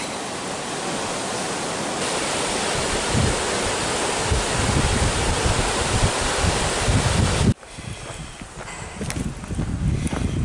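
The McLeod River rushes steadily in a broad, loud wash of flowing water, continuous throughout with a slight dip and shift in tone toward the end, no voices present.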